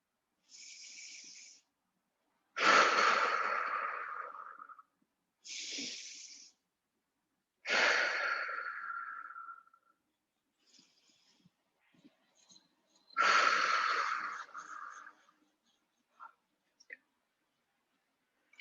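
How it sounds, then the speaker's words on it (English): Three slow, deep breaths during a guided breathing exercise, each a long hissing inhale through the nose followed by a fuller, breathy exhale, close to the microphone with near silence between them. "Let's take 3 deep breaths."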